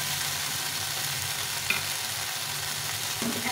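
Rohu fish curry base of spices and tomato fries in a pan with a steady, close sizzle, joined by a couple of faint stirring scrapes; no one speaks.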